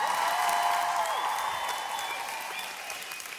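A large live seminar audience of women cheers and applauds, with dense sustained clapping and a few shouts filling the room, loud and steady before slowly easing off.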